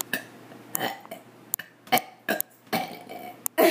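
Person burping: several short, close, abrupt belches in quick succession.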